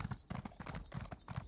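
Horse hooves clip-clopping in The Elder Scrolls Online, a steady quick rhythmic trot of hoofbeats, faint and low in level with no talk.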